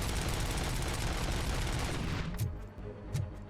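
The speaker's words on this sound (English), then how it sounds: "The amount of bullets I put out is insane." A rapid-firing handgun in Robocop: Rogue City loosing a dense, unbroken stream of shots. A couple of separate sharp bangs follow as the barrage stops.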